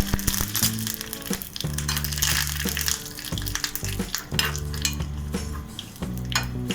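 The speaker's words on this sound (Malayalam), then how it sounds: "ഇനി ഇതിലേക്ക് 1 ടീസ്പൂൺ കടുക് കൂടിയിട്ട് പൊട്ടിച്ചെടുക്കാം." Mustard seeds, dried red chillies and curry leaves frying in hot oil for a tempering, with crackling sizzle and scattered pops heard close up beneath a constant music bed, no voices.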